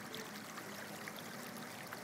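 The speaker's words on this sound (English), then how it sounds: "this just became one big raging huge river" Floodwater from the Rio Loíza, overflowing after Hurricane Irene in Puerto Rico, rushes across farmland as a broad, continuous hiss of flowing water, steady and unbroken with no voices.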